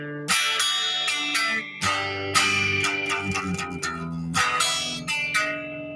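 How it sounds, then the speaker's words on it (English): Electric guitar practice exercise, strummed chords broken up by single-note walk-ups and walk-downs, played alone at a moderate tempo with steady repeated strums and short pauses, some bright ringing effect on the tone. "Just a way to practice single note walk-ups and walk-downs within chord strumming."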